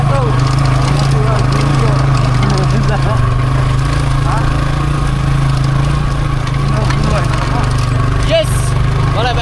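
A motorbike engine drones steadily and loudly while riding, a continuous low rumble with wind noise and people talking over it.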